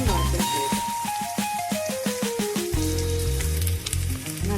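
Grated coconut dropped into a wok of frying chickpeas, giving a bright, steady sizzle mixed under prominent background music, with no talking.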